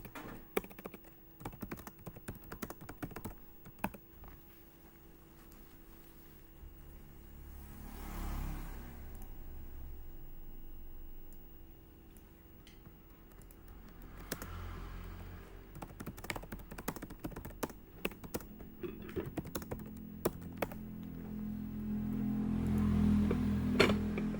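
Keys clack on a computer keyboard as network route commands are typed: irregular bursts of close clicks with short pauses over a low, steady whir.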